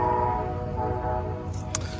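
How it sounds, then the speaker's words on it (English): An Amtrak train pulls out of a station in autumnal New England, a steady low rumble with a sustained tonal hum heard from some distance, ending with a sharp click. "that's the Amtrak train leaving the station"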